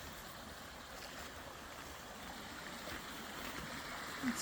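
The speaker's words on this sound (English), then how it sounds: "The water flowing." Faint, steady rushing of water flowing over a small waterfall at an old dam carries on throughout, a soft broadband wash heard from a short distance.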